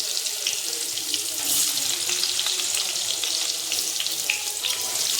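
Cauliflower and potatoes fry in hot oil in a pan for a curry, giving a steady, close, crackling sizzle that carries on evenly without pause and without any talk.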